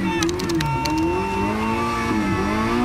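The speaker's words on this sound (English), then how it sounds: "I'm driving Albert's car." A car engine drones steadily while being driven, a continuous loud mid-pitched hum with gently shifting pitch as it revs, close and alone with no talk.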